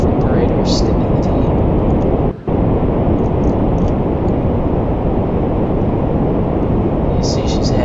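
Loud, steady roar of a heavy rocket engine burning at half throttle in Kerbal Space Program, a dense continuous rush with one brief dropout, under talking.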